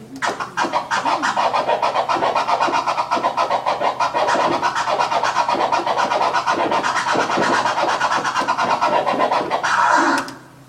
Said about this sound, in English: That's the waka waka or Pac-Man or flare scratch.